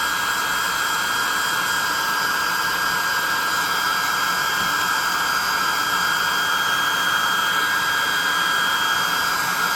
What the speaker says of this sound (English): let's dry them off with the +2 hot air gun burning